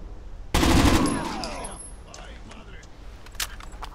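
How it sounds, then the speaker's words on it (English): A sudden loud burst of gunfire in the Rainbow Six Vegas video game, followed by trailing echoes, metallic rattles and scattered fainter shots. "Take that guy down just by shooting his feet."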